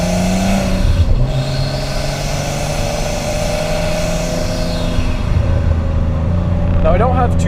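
An R33 Nissan Skyline engine drones loudly with a steady, rumbling tone and shifting pitch as it revs under load, heard close and continuous with a brief voice near the end.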